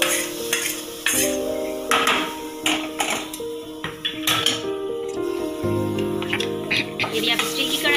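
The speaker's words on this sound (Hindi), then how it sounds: "उसे भी इसमें डाल करके अच्छे से मिक्स कर लेना है" A roasted spice and flour mix is stirred into yogurt in a steel vessel, heard as scraping and clinking of a spoon against the metal with a faint sizzle underneath. A voice speaks briefly.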